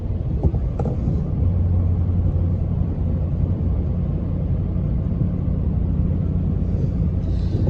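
A Duramax diesel truck engine revs at about half throttle in a deep, loud rumble that holds steady for several seconds after a short opening burst. No one talks over it.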